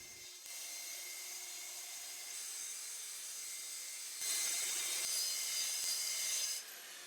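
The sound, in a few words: track saw with an old blade cutting a sheet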